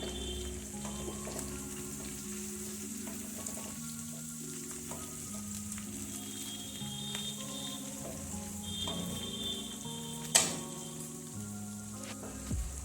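Stuffed round gourds (tinda) cook on a low flame in a pan, giving a quiet, steady sizzle broken by soft clicks and one sharp clink near the end, with no voices.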